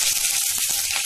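Curry leaves sizzle in hot oil over a low gas flame while tempering for sambar, a steady bright crackling hiss heard close and alone.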